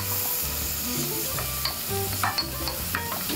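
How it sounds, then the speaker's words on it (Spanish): Chopped onion sautés in a pan for huevos motuleños, a steady close sizzle with repeated clattering stirs and scrapes of the utensil, no speech. "Tenemos que tener ojo con la cebolla que no se nos vaya a quemar. Solo queremos saltearla, cristalizarla."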